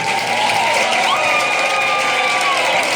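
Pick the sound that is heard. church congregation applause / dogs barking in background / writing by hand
church congregation applause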